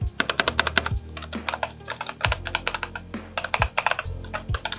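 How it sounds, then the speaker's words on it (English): Rapid clicky typing on a wired Logitech computer keyboard, bursts of keystrokes with a few heavier thumps from the space bar, close and clear with no talking. "So we'll get a quick sound test of the keyboard."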